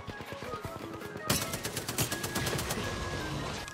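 Rapid bursts of automatic gunfire in the battle royale shooter Apex Legends, starting abruptly and continuing as a loud, dense stream of shots over game ambience, with no voices.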